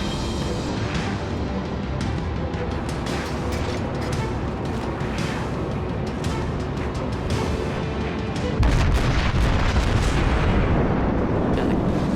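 Naval ship guns fire in the World of Warships video game, a steady roar of rumbling booms and crackling shell bursts that swells louder and deeper near the end.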